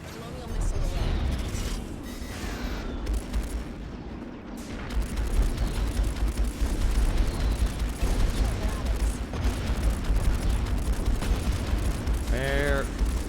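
Missiles launching and exploding during a space battle in the video game Strike Suit Zero: a dense, continuous barrage of blasts and rumbling fire, loud and sustained, with a voice talking over the combat.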